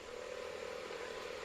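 A camera motorbike chasing cyclists in a road bike race along the Pacific Coast Highway, its engine a steady, unbroken droning whir at moderate volume, with no voices.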